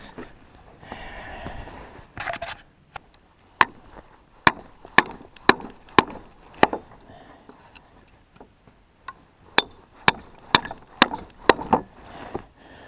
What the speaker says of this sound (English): Found I had to really watch where the chisel was going, or else it would get into two different grains and kind of make the split crooked.